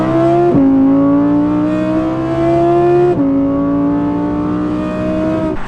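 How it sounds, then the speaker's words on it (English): Sports car launching hard from a standstill and accelerating on a highway, the engine roaring loud and close with rising pitch through two quick gear shifts, steady and continuous with no talk. "I hope you like that launch. The car pulls so hard."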